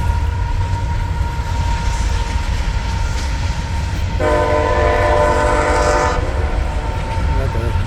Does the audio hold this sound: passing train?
yes